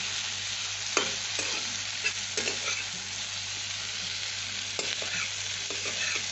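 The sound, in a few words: stir-frying bitter gourd and potato in a pan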